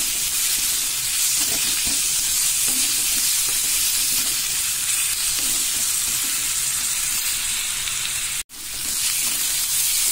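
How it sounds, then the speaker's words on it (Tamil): Ginger garlic paste sautéing with onions in a pan for prawn thokku, a steady close sizzle and hiss of frying running throughout with soft stirring scrapes and one sudden brief dropout near the end. "இந்த டைம்ல இஞ்சி பூண்டு பேஸ்ட் இதில் நான் ஆட் பண்றேன். அந்த பச்சை வாடை போக வதக்கணும்."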